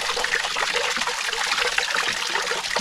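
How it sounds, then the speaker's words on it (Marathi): Spring water still flowing in February through a rocky gully in the Sahyadri hills, heard as a steady, close, continuous trickle and splash with no talking. "तुम्हाला ह्या घळीमध्ये अजून जिवंत पाणी दिसतंय"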